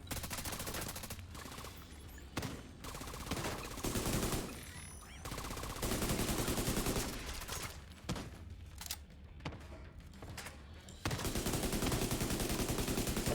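Dense, loud gunfire from a shooter video game, with sustained automatic bursts and overlapping shots running almost continuously, broken by brief lulls, with no talk over it.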